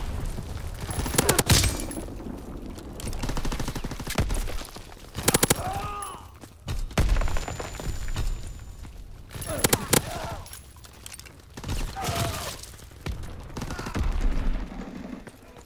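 Gunfire in a WWII video game, sharp shots in clustered bursts with quieter gaps, mixed with ongoing voices talking over the action.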